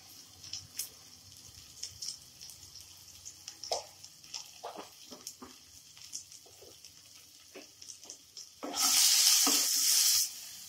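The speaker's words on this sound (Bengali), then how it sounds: "পেঁয়াজটা লাল হওয়া পর্যন্ত আমাদের ভালো করে এটাকে ভাজতে হবে।" Onion and chopped capsicum frying in a pan over low-medium heat with a little salt, a soft crackle with light stirring scrapes, swelling into a loud steady sizzle near the end.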